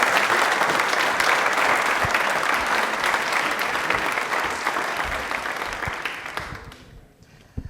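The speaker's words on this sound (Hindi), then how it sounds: "तालियां जोर शोर वाली होनी चाहिए पूरी।" Loud, dense studio audience applause on a televised quiz show, sustained for several seconds and then tapering off to near silence at the end.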